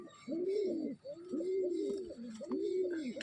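Pigeons coo in three slow, rolling phrases, close and clear, with faint background noise between calls.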